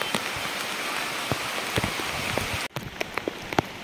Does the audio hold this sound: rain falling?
yes